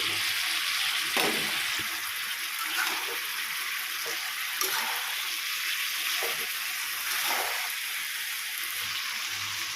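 Slit green chillies dropped into mixed vegetables cooking in hot oil, a steady bright sizzle and crackle throughout, with faint stirring clatter beneath.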